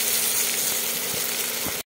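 Spices frying in a pan, a steady close sizzle with light crackles and a few stirring knocks, cutting off abruptly at the end.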